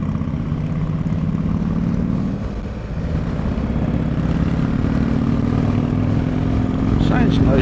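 A BMW R1200RT motorcycle engine runs steadily close by, a continuous low droning hum with a brief dip midway, while background noise and faint voices mix in.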